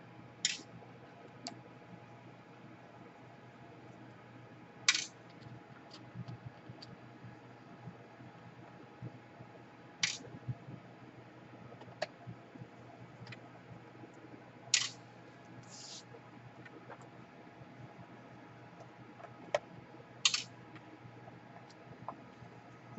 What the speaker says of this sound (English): So you unscrew every single screw here.